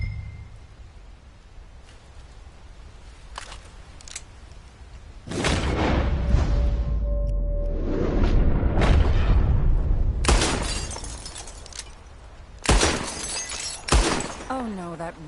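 In Red Dead Redemption 2, gunshots blast out and targets shatter, with several loud booming, crashing bursts and breaking debris spread across the stretch, mixed with game ambience.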